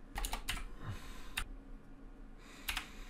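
A computer keyboard is typed on in short, quiet bursts of clicking keystrokes, separated by brief gaps, close by in a quiet room.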